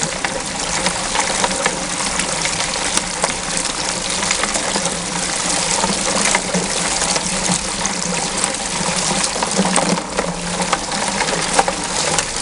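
Water gushing steadily through a Gold Cube bucket trommel fed by an 1,100-gallon pump on a beach, a loud continuous splashing rush with no break.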